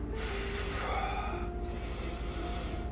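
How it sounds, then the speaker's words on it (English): Heavy breathing during a strenuous exercise workout: loud, close, rushing breaths that carry steadily through the whole stretch with no talking. "You hear me breathing, I'm working hard."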